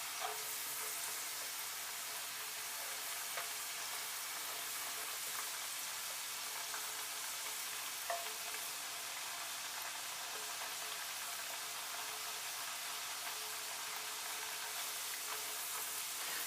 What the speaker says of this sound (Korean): 160도 정도로 잠길 정도로 감자가 이렇게 튀겨주시고요